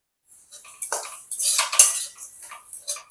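A utensil clinks and scrapes against a pan while jaggery and dry fruits are stirred for atta modak, a few close metallic strokes over about three seconds with no talk.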